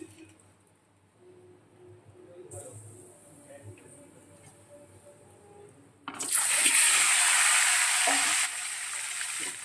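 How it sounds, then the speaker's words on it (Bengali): Eggs frying in hot oil in a wok: quiet kitchen sounds and low talk for the first few seconds, then a loud, steady sizzle that bursts in and holds to the end. "ডিমগুলোকে হালকা ভাজবো, খুব বেশি ভাজবো না।"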